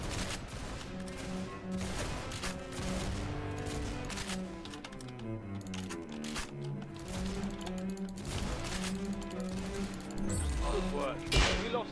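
Rapid gunfire in the Arsenal video game, bursts of shots and impacts mixed under loud game music and players chatting over voice chat.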